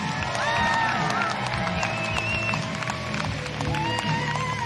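Spectators at a women's timbersports competition cheer, whistle and whoop in a sustained, lively burst, with scattered clapping and voices throughout.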